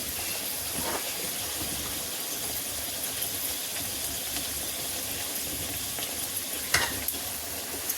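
Urad dal bedmi puris fry in a shallow layer of oil, giving a steady, close sizzle that runs throughout with a faint stirring clatter and no talk.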